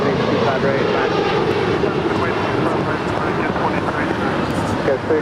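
An Airbus A320 takes off from runway 25 right at LAX, a loud, continuous engine roar filling the whole stretch, with radio voices over it.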